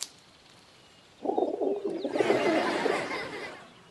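A single bird, a sassy nest-dwelling hen, gives a fairly loud burst of soft, warbling coos that start after about a second of quiet and carry on with a little rasp to the end.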